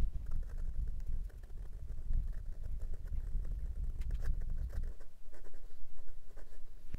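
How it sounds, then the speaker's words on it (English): A Penbbs 480 fountain pen scratches across paper in close, dry strokes, a soft steady scribble that quiets near the end. "and for some reverse writing"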